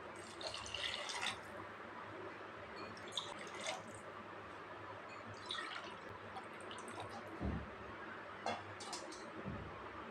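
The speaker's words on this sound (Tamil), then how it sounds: "கிச்சனுக்கு தேவையான தண்ணி ஊற்றிக்கலாங்க." Water trickles and splashes into a pot while a Kongu-style kichadi is prepared in a home kitchen, a soft continuous pour with a few brief louder splashes and drips.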